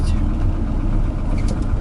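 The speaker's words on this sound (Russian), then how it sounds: "Слышно вот на холостых цоканье." A Ford Transit's Sierra 1.6 petrol engine idles with a steady low rumble and a faint rapid ticking running through it, close and continuous, with no pauses.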